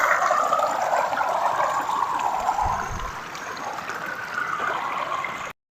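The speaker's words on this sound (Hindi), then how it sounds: "ये ग्लेशियर के अंदर से पानी निकल रहा है" Meltwater pours out from under a glacier near Naran, a steady rushing and gurgling flow that stays continuous and fairly loud throughout.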